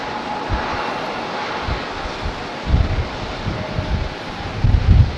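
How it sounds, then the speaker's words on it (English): A Breeze Airways Airbus A220-300 airliner touching down at Raleigh-Durham airport, a steady distant jet rumble under heavy gusting wind buffeting the microphone in low thumps. "Breeze Airways touching down just now on an A220-300"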